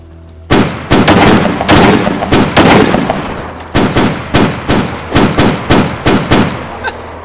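Gunfire in DayZ as a creature is shot: a loud, close string of about fourteen sharp shots, first in quick bursts, then a short pause, then evenly spaced single shots at a steady rhythm.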